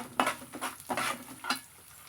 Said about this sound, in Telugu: పోపు దినుసులు ఉన్నాయి కదా, అవి కూడా మిక్స్ చేసుకుని బాగా కలుపుకోవాలి.